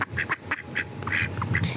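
A duck quacks in a short series of loud, close calls, several bursts with brief gaps between them, heard clearly on its own with no talking.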